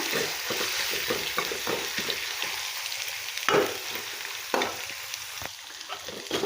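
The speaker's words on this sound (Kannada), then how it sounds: "ಈಗ ಇದಕ್ಕೆ ನೆನೆಸಿಟ್ಕೊಂಡು ತೊಗರಿಬೇಳೆ ಹಾಕೊಳ್ಳೋಣ ಹಾಕ್ಕೊಂಡು ಸ್ವಲ್ಪ ಫ್ರೈ ಮಾಡ್ಕೋಬೇಕು" Soaked toor dal frying in a pan, a steady sizzle with repeated stirring scrapes and a few sharper knocks, close and moderately loud.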